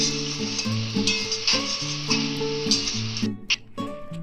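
A spoon stirs garam masala through the gravy of a stingray fish curry in a pan with the flame off, giving repeated scraping strokes over a soft lingering sizzle, close and fairly steady with a few sharper clinks near the end.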